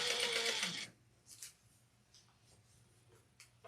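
A sewing machine runs in a short close burst while stitching a fabric witch hat, followed by quieter scattered clicks and handling noises.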